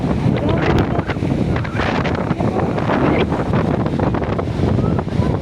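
Strong sea waves crash and surge under heavy gusting wind, a loud continuous roar with repeated breaking swells close by, and people talk over it.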